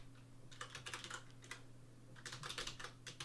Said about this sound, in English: I'm going to type number